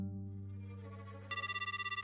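A mobile phone ringback tone sounds after a call is placed: a low steady hum gives way to a bright, pulsing electronic ring repeating quickly and evenly.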